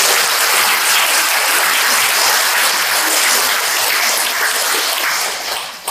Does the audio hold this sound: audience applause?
yes